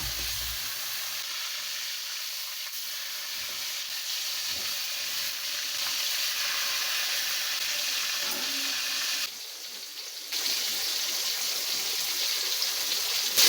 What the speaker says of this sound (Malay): Minyak dah panas, bolehlah digoreng ikan tu.